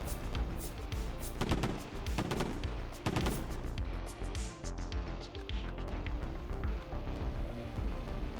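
Pirates fire dense, rapid gunshot bursts in the sci-fi factory game MegaFactory Titan, with loud rattling volleys that overlap continuously and no pauses, heard alone.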